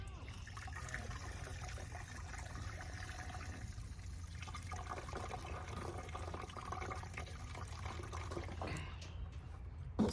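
Water is poured onto a dry plant in a raised garden bed to soak it, a soft continuous trickle and splash lasting throughout, fairly quiet and without talk.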